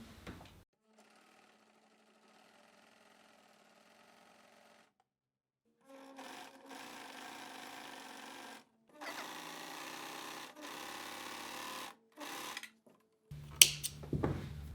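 A Juki MO 50e overlock serger sews a rolled hem, running in several steady whirring bursts separated by short pauses, close and fairly quiet, ending with a brief clatter.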